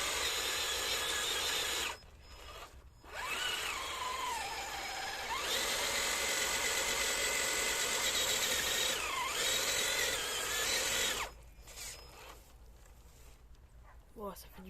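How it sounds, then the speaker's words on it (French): Traxxas TRX-4 RC crawler churning through mud on an outdoor track, its small electric motor whining and rising in pitch in steady bursts, close to the mic, with gaps where the motor falls quiet. "Oh, ça fait du bon bruit là, la petite boue."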